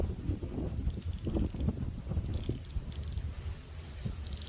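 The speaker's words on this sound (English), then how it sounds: "When I tell you this is a tight tolerance on this thing, that is just 120 click bezel." A 120-click watch bezel is turned in several short runs of fine, rapid clicking. The ratcheting is close but faint over a low background rumble, with no talking.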